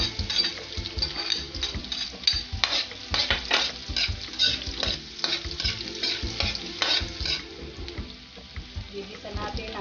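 Garlic and onion sauté in a hot pan for pancit guisado, sizzling steadily while a utensil stirs and scrapes against the metal in quick, irregular strokes, close and busy throughout.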